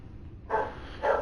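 Two quick barks from the household's dogs in a room, fairly close and loud, spaced about half a second apart with nothing else around them.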